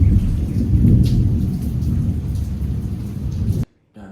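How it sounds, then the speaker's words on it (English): Steady heavy rain pours down with a low thundery rumble beneath it, loud and continuous until it cuts off abruptly near the end. "See, the rain usually goes,"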